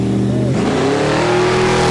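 Drag-racing car on a bye run down the strip at Bug Jam, a loud engine note rising sharply as it accelerates away over about two seconds, with a commentator's voice over the roar.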